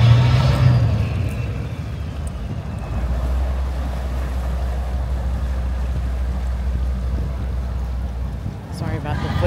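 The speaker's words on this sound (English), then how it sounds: "a dirty diesel." Diesel boat engine idling in Inverness, a steady low rumble running for most of the clip, mixed with wind and water noise, fairly loud and close.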